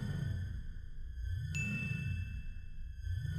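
A single bright notification bell ding rings out once over a steady low background hum, its clear tone lingering for a couple of seconds.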